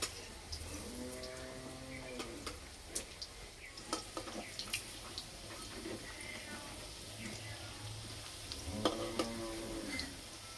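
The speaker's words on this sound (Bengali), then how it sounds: "আস্তে আস্তে জাল দেবো, ভেজে নেব। এক পিঠ ভাজা হয়ে গেছে, উল্টে দেব।" Puffed rice fritters fry gently in oil over low heat, a soft continuous sizzle broken by utensil clicks and taps, with distant cattle lowing and faint voices in the background.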